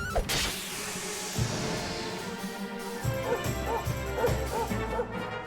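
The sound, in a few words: dog barking, from the video game Dragon Quest XI S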